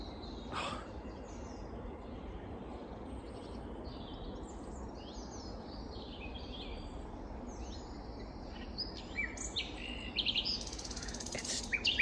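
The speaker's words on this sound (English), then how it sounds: "That is my first nightingale of the year." The year's first nightingale sings from nearby bushes, a string of varied chirps, whistles and rapid trills rising over a constant low ambient rumble, growing louder toward the end.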